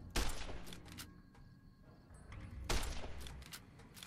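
Varmint rifle gunfire in the video game Fallout: New Vegas, two sharp, loud shots a few seconds apart, each followed by a short rattling tail.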